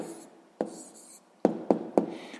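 Pen or pencil scratching on paper as a handwritten answer to a sixth-grade maths exercise is written down, in short quiet strokes broken by four sharp taps or clicks, close and with no talk.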